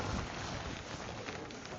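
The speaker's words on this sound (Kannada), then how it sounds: "ಕರೆಕ್ಟಾಗಿ ಇವತ್ತು ಮಳೆನೂ ಬಂದಿದೆ." Steady, close rain hiss falls outdoors during the monsoon season, a dense even wash of sound with no voices.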